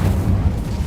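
Incendio fire spell cast in Hogwarts Legacy, a short heavy low rumbling burst filling about a second, loud and alone.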